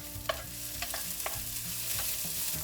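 Onions frying in a pan in a cabin kitchen on Svalbard, a soft steady sizzle with repeated scraping stirs of a utensil, quiet and close, no one speaking.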